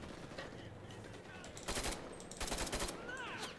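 AUG rifle firing in Enlisted, two short rapid automatic bursts with a final crack, faint behind someone talking and ambient battlefield noise.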